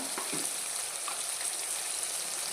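Tomato fries in a pan for a cabbage palya, giving a soft, even sizzle and hiss throughout with a few faint stirring scrapes and no talk.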